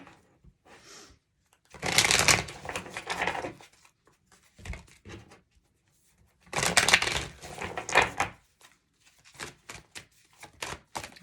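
Tarot and oracle cards from a Wisdom of the Oracle deck being shuffled by hand, two long loud riffling bursts with quieter taps and card handling between them, close up and with no voices.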